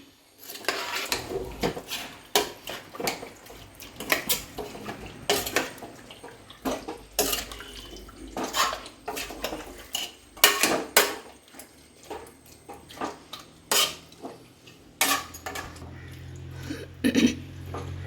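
Beef, coconut and shallots get stirred together in a new pressure cooker, with a long run of clinking and scraping spoon-against-pot strikes and some soft sloshing, close and irregular, with no talk.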